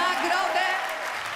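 Audience applause for a prize winner at a Polish national vocal competition award ceremony, a steady wash of clapping in a hall with no talking.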